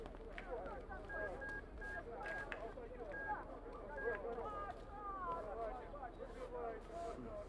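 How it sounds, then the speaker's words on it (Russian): A telephone number is dialed as a few short, evenly pitched keypad beeps ring out in a brief sequence, sitting over a steady murmur of background noise and indistinct voices. "Звони Тане"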